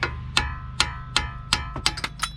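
Repeated sharp metallic hammer strikes on a 2011 Nissan Altima front strut part, about eight blows at a steady pace, then a quicker cluster near the end, close and loud.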